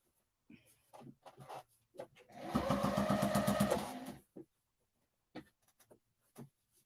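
A sewing machine stitches binding onto a quilt in one steady burst of about two seconds, close and fairly loud, between quieter handling taps and rustles.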